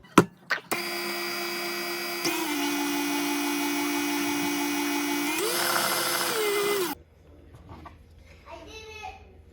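An electric mixer whips cupcake frosting in a steady, loud motor whine that shifts pitch partway through as the speed changes, then cuts off and leaves quieter kitchen handling.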